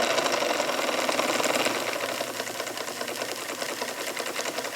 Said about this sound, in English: There's our first start on the Model 75. She's running counterclockwise.